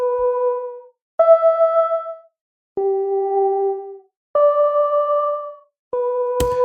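A clean, pure-toned synth plays a slow melody of five sustained notes separated by short silences, with a brief click at the end.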